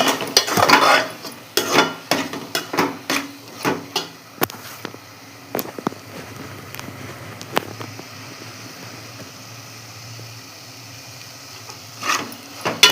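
A spoon scrapes and stirs egg tomato curry in a pan in a rhythmic series of close, clattering strokes, with faint sizzling beneath and a quieter stretch before a final burst of stirring.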